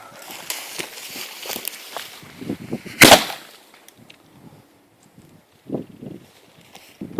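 A Star Trek Gorn cannon replica loaded with lead shot fires a single sharp, loud blast midway, cracking out above the quieter outdoor rustle, footsteps and handling noises around it.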